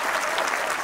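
A live audience at a Hindi comic satire poetry show bursts into a brief, loud round of applause lasting under a second.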